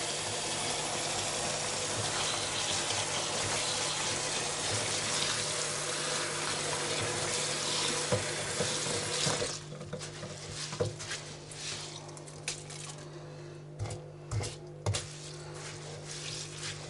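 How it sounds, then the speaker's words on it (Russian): A tap runs steadily, filling with warm water for washing in a home setup with an electric press, a continuous near patter that stops partway, followed by small clinks and handling sounds. "Тепленькой водички набираем."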